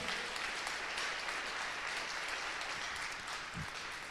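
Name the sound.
audience applause at pitch event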